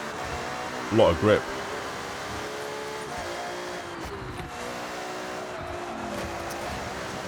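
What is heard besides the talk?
Ferrari F80 engine screaming in Forza Horizon video game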